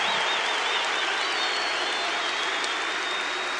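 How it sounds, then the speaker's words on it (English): Crowd applauding and cheering in the Assembly Hall arena as a banner honoring a retired basketball coach and his wife is unveiled; dense, steady, loud applause fills the whole stretch with no break. "I want you to make a lot of noise for Lou and Mary Henson as they come and unveil this banner"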